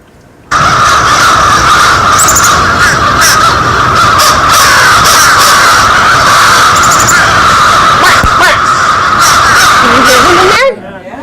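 Fish crows cawing over and over in a dense, loud recording played back during a lecture, their harsh nasal calls overlapping steadily for about ten seconds before cutting off abruptly.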